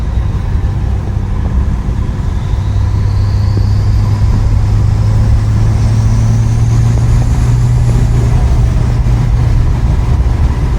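A 2018 Ford F350 with compound turbos drones steadily from inside the cab while cruising, with a low, even engine hum, a rising turbo whistle, and constant road and wind noise throughout.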